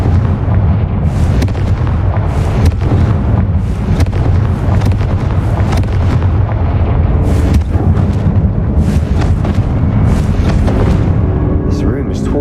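Confringo blasting spell in Hogwarts Legacy, set in a catacomb tomb: heavy booming explosions and crackling blasts repeating over about twelve seconds, loud and rumbling, with voices mixed in.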